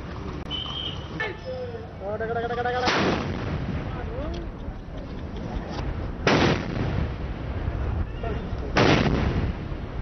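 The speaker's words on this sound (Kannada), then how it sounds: "ಇವತ್ತು ಲಾಸ್ಟ್ 21 ಗನ್ ಸಲ್ಯೂಟ್ ಏನಿದೆ" Three loud, booming cannon shots of a 21-gun salute a few seconds apart, echoing outdoors with a rumbling crowd and faint horn-like tones between them.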